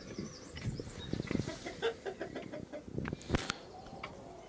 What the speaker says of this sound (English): this will be the first time the chickens have ever come out the door